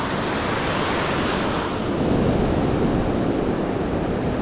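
Ocean waves breaking steadily on a San Diego beach on a summer morning, a continuous loud surf roar with wind buffeting the microphone, alone without voices.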